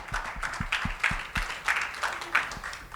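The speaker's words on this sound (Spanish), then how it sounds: "aplauso, ¿no?" An audience at a human resources conference applauds, a moderate run of clapping with a steady pulse and low thumps underneath.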